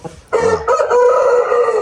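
A rooster crows once, loud and close, a long sustained call that holds steady to the end.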